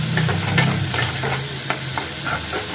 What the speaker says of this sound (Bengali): এবার এগুলোকে ভালো করে একটু ভাজা ভাজা করে নেব